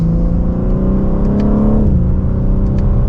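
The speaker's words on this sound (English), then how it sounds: "We'll give it another acceleration." A 2024 BMW M3 CS accelerates hard, its engine note rising loud and close, dipping briefly at a gearshift and then climbing again in a smooth, steady drone.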